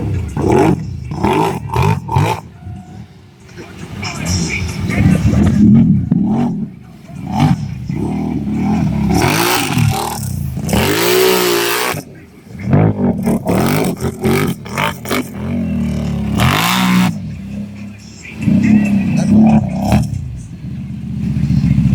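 A Can-Am Renegade 1000R ATV engine revs hard during a reverse wheelie, loud and close, with repeated surges and clattering mechanical noise. People shout in the background.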